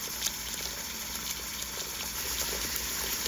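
Water running steadily into a large pot being filled for canning jars of tomato juice, a constant broad rushing stream without pause, close and fairly quiet.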